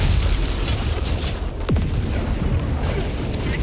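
A grenade explosion in Helldivers 2 shows up as a deep muffled boom within a dense, loud rumble of battle noise, with a brief whistling sweep in the middle.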